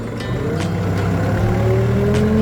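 A 3-ton automatic diesel forklift engine revs up as the throttle is pressed, a steady close rumble with rising harmonic whine and no speech.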